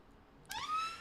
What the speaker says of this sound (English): excuse the sirens outside